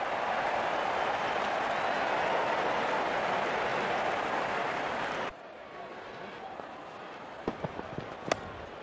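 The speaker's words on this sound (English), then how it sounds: "Wonderful 50 and the crowd applauds." A cricket stadium crowd at a BPL 2024 match applauds a batsman's fifty with a loud, sustained roar of clapping and cheering that breaks off abruptly to quieter ambience with a few sharp pops.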